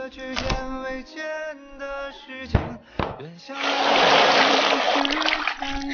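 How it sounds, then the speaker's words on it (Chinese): Pork pieces are rinsed in water, starting with a few knocks and clatters, then a sustained loud splashing and sloshing of water in a basin in a rural kitchen. "把肉洗一洗"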